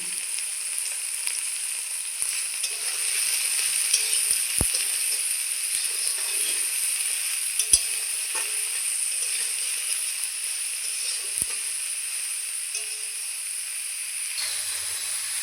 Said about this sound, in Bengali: ওই তেলে আমি সয়াবিনগুলো ভেজে নেব